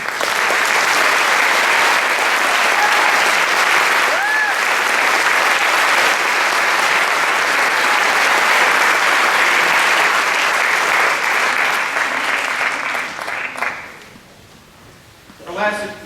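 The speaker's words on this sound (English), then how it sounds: "let's give them all a round of applause." An audience at an honor band concert gives loud, sustained applause for the band members, a dense wash of clapping that fades out near the end and leaves a brief quiet tail.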